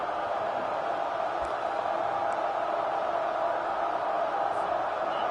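A packed stadium crowd roars at a Virginia versus Temple football game, loud enough to force a false start: a dense, steady wall of noise holding at constant volume throughout, with no distinct voices standing out.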